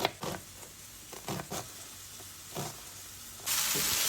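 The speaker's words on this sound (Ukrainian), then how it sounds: "жару гриби, щоб виборувалася рідина." Button mushrooms (champignons) sizzle and fry in a pan with intermittent stirring scrapes, the sizzle swelling louder toward the end.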